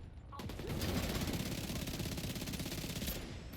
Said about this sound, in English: that SMG hits really hard